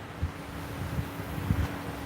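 Wind buffets the microphone in low, uneven gusts, a rough rumbling roar with occasional thumps.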